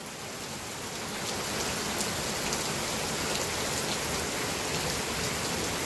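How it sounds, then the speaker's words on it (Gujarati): Heavy rain pours onto a road in Talaja, making a steady, dense, loud hiss that fills the whole clip, with no voices over it. "ફૂલ વરસાદ આવ્યો જો"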